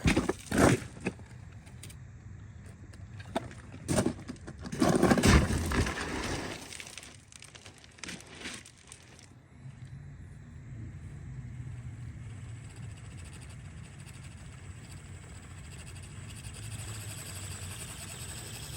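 RC crawler car on crawler tires climbing outdoors: clattering knocks and bursts of contact noise early on, then a steady low motor whine and rolling rumble that continues to the end.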